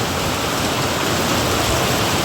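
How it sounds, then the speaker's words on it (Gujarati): Heavy rain pours down steadily, a dense, loud and unbroken hiss with no let-up and no voices. "બહુ વરસાદ ચાલુ થઈ ગયો છે જોયું બહુ જ વરસાદ છે"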